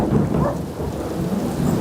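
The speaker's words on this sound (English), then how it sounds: "A viewer sent us this video of the thunder and driving rain." Thunder rumbles alongside heavy driving rain from Tropical Storm Elsa's outer bands in Pembroke Pines, a loud steady downpour with a deep low roll beneath it, no voices.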